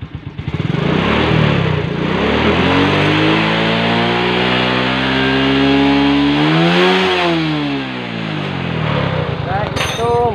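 A Yamaha Lagenda Z110 motorcycle engine starts and revs up loudly and close, its pitch rising and falling through several throttle blips over a steady idle, with a voice briefly speaking over it.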